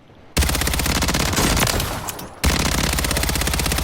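Close-range SMG fire in Call of Duty on Rebirth Island, loud rapid automatic bursts: one long burst, a brief pause, then another sustained burst, near and dominant with no talk.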